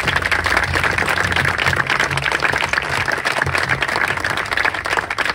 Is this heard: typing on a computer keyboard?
no